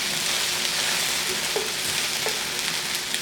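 Sausage sizzles steadily in a pot for a shrimp stew, a close, even crackling hiss with a couple of light stirring scrapes and no voices.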